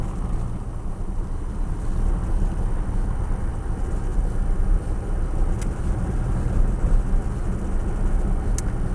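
A car cruises along Back Mountain Road through Amish country, a steady, low road and engine rumble with tire noise that holds evenly throughout, with no talking.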